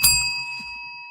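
A single bright bell ding strikes once and rings on with a clear sustained tone that slowly fades, heard alone and close during a radio station broadcast.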